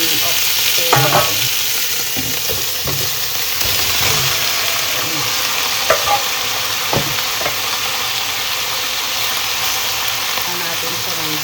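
Oxtail sizzles with onion in a cooking pot, a constant loud frying hiss broken by scattered clinks and scrapes of stirring, with no talk over it.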